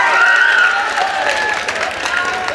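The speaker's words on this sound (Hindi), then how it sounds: "जोरदार तालियां बजाइए" An audience at a mushaira, an Urdu poetry gathering in Tulsipur, claps briefly with a loud burst at first, then thins out. A voice runs faintly underneath.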